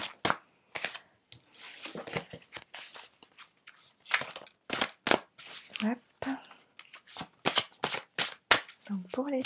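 Tarot cards are shuffled and laid out in quick, sharp riffling bursts and soft slaps, repeating irregularly, close and clear, with a voice talking between some of them.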